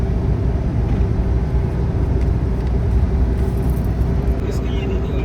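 A car engine runs steadily while driving through a village, a loud, continuous low rumble filling the cabin as people talk over it.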